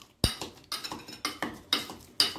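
Ripe banana slices being mashed with a hand masher for shikran, giving five firm, evenly spaced thumps about every half second, each with a brief clattery scrape against the bowl.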